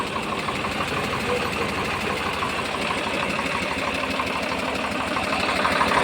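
A 2005 Swaraj 855 tractor diesel engine running nearby, a loud steady rhythmic chugging idle with fast regular pulses and no pauses, no voices.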